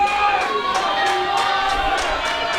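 A wrestling crowd at a live indie show roars steadily with cheers and shouts, a dense, loud wash of voices with rhythmic swells, as if fans are urging a wrestler back to his feet.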